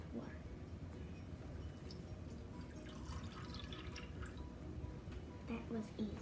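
Water is poured into a slime mixture at home in a steady, soft, splashy trickle, with people talking over it throughout.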